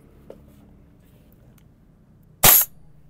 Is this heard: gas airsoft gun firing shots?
yes